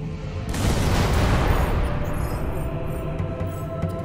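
An explosion in the Fable II video game: a loud, sudden blast that swells into a dense rumbling roar lasting a few seconds and slowly fading, with no talking.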